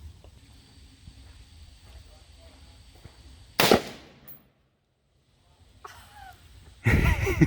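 AR-15 rifle fired at a shooting range: two loud, sharp reports a few seconds apart, each followed by a brief echo, over low background noise and some talk.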